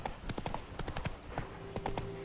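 Horse hooves clip-clop at a steady walking rhythm in The Witcher 3 video game, fairly close and moderately loud, with a faint tonal hum from the game in the background.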